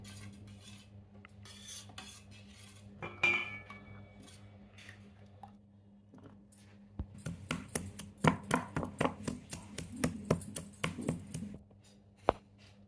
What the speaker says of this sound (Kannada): ಸ್ವಲ್ಪ ಕೊತ್ತಂಬರಿ ಸೊಪ್ಪನ್ನು ಕಟ್ ಮಾಡಿ